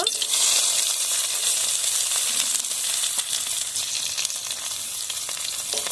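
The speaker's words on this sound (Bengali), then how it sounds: "তেল গরম হয়ে গেছে এখন পেঁয়াজ কুচি দিয়ে দেব" Chopped onion frying in hot oil in a kadai, a loud, dense, continuous sizzle and crackle held up close for several seconds with no talk.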